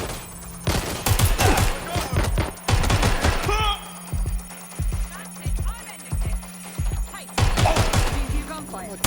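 Bursts of rapid automatic gunfire ring out in the Watch Dogs Legion video game, several loud rattling volleys separated by short gaps, with single shots and voices in between.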